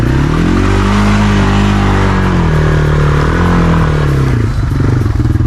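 A Honda 300 ATV engine roars loud and close as it revs and bogs through a thick, muddy hole, its pitch rising and falling with a rough, clattering drone.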